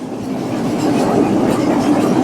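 A passenger train on the Colombo to Batticaloa line rolls steadily along its rails, a continuous loud rumble with faint clickety-clack, heard up close from inside with no talking.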